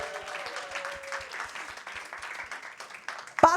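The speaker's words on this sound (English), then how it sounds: "Warm applause." An audience at an outdoor park stage festival session gives a short round of warm applause, moderately quiet and steady claps fading out before a louder bump at the end.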